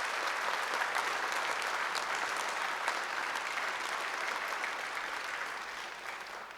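Sustained applause from a large crowd at a Māori university graduation ceremony in Wellington, dense steady clapping that fades slightly toward the end.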